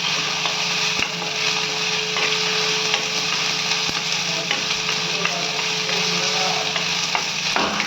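Ginger garlic paste sizzles and fries in a hot pan for an egg chukka, a steady close crackling hiss with occasional sharp taps of a spoon stirring against the pan.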